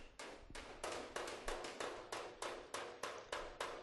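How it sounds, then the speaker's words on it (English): A hammer taps steadily along the folded lip of a rusty car door skin panel, about a dozen sharp, evenly spaced strikes that sound quiet and close. "I'm just hitting the lip itself, not the actual panel."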